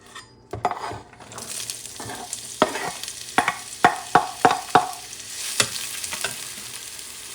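Onions and sweet pepper frying in a pan with a pinch of salt, a continuous close sizzle broken by a string of sharp stirring scrapes and clinks against the pan.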